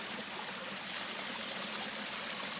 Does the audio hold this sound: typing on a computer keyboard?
no